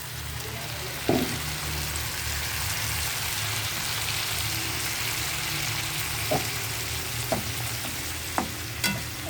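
Onion, garlic and tomatoes sizzle steadily in a frying pan, a constant crackling hiss with a few sharp clinks of stirring near the end and no talk.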